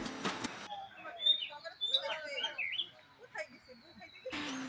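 Birds chirp and twitter softly around a park reservoir surrounded by green trees, with a few thin calls scattered through a quiet outdoor background and brief louder noise at the start and end.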